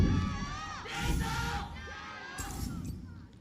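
An esports arena crowd at a League of Legends LPL match roars and chants in loud surging waves, with rhythmic shouting swelling and dropping across the moment.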